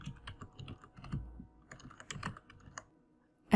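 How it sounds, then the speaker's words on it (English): Someone types "Blossom Recipe" into a search bar on a computer keyboard, a quick, close run of crisp key clicks in uneven bursts, then a short pause before a final louder tap. "from the search bar here, just type in Blossom Recipe"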